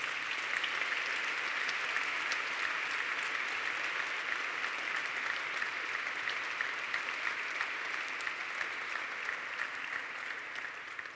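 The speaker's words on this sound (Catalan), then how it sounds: "Per tots vosaltres, demano un aplaudiment ben fort per aquest acte de graduació." A large audience at an academic graduation ceremony applauds loudly and continuously, a dense, even wash of clapping that holds for several seconds before easing slightly.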